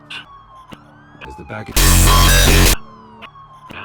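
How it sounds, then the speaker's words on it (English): A police car siren in a Batman video game blares in one loud, sustained burst in the middle of the scene, with synthesized score tones and someone speaking briefly before it. "There are quite a few police cars convening on your location."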